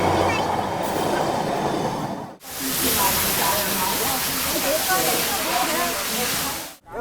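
A crowded carriage of the Antyodaya Express passenger train, running from Jalandhar City to Darbhanga, fills with a loud, steady rumbling, hissing roar of the moving train. Voices mix into the noise, and there are two brief dropouts.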